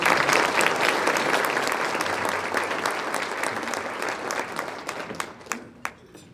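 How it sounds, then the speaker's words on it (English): Audience at a chamber of commerce luncheon breaks into dense, sustained applause from a roomful of people, loud at first and then thinning out to a few scattered final claps. "let's give one more round of applause for all of our new chambers."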